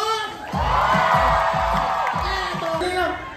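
Crowd at the Snatch Ko, Snatch Mo show with a live host lets out loud cheers and whoops, with bursts of shouting rising over steady crowd noise, close and continuous.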